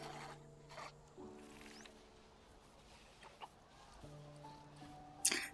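A Gallimimus, a feathered dinosaur, calls in the swamp area of a Prehistoric Kingdom park, giving a few fowl-like clucking and chirping cries over a steady tonal drone of game music, with a sharper burst near the end.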